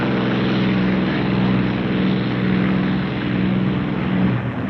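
Several P-51 fighter planes take off, their propeller engines droning in a steady, throbbing hum that swells and eases slightly, loud and continuous without voices.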